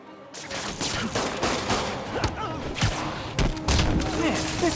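Dense gunfire from Marvel's Spider-Man plays loud and close, with rapid overlapping shots, thumps and bursts forming a continuous chaotic barrage.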